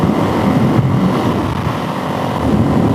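A motorcycle fitted with a Link's Garage built engine cruises at 75 mph, a steady low engine drone blended with heavy wind rush, loud and even throughout.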